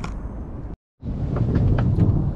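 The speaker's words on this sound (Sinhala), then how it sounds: "මොකද විදුලි කොටන සද්දෙත් ඇහෙනවා" Thunder from storm clouds rolling in over the hills in Italy. A deep, heavy rumble breaks off briefly, then swells back louder and keeps grumbling, with no voices.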